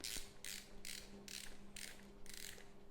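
The BOA dial on a Thuasne Dynastab ankle brace is turned, giving six quick bursts of close, faint ratcheting clicks at an even pace.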